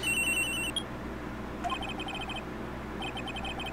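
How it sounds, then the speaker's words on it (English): A cell phone rings in the Phoenix Wright: Trials and Tribulations game, electronic ringtone bursts repeating in short trilled patterns with pauses between, over a steady low background hum. "I received a call on my cell phone."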